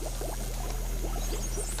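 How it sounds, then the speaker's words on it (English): Liquid nitrogen poured into a flask, boiling and bubbling in quick gurgling bursts over a steady low hum, close and continuous. "I'm going to pour it into this flask"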